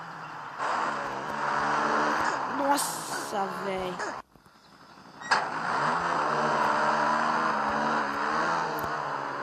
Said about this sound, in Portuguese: Esse vídeo aqui é um jogo de moto.